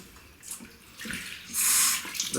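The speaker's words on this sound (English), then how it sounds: "So I just dribbled a bit of water on top of the soap." A bit of water dribbled from a tap onto a puck of hard shaving soap: a soft running splash and hiss that swells into a louder burst near the end, with no talking.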